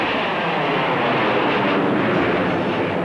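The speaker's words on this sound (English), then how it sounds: "Here, some of the world's best pilots roar through the skies." Test airplanes roar overhead at Edwards Air Force Base, a loud, steady broadband jet roar that fills the whole stretch without any voices.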